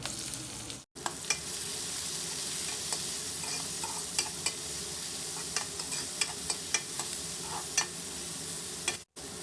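Sliced onions fry in hot oil with crushed garlic cloves and curry leaves for a village-style gongura dried prawn curry, giving a steady close sizzle broken by regular clicks of a stirring spoon.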